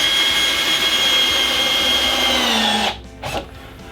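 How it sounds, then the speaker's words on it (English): A power drill countersinks screws into sawhorse timber, whining steadily at high speed for about three seconds before winding down, followed by a couple of short knocks. "we want to make sure countersink all of our screws down"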